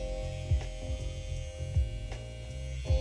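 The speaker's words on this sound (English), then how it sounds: "we'll go ahead and turn on the trimmer as well so you can see that real quick" A Suprent Black Obsidian electric hair trimmer runs with a steady, close, quiet buzzing hum, broken by a few soft periodic thumps.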